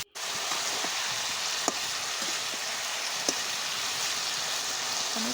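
Curry with poa fish sizzles steadily in a pan as it is stirred, a constant close frying hiss broken by a few faint scrapes and taps.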